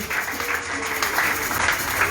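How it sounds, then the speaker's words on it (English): An audience at a Nigerian market traders' union meeting in Edo claps steadily for a couple of seconds, a dense even patter of applause up close. "Everyone has clapped for the mayor of EDO."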